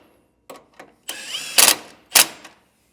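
A 13mm socket tightens a flange nut and bolt on a hidden trailer hitch in a few short, sharp bursts of tool noise separated by brief pauses, close and with no talking.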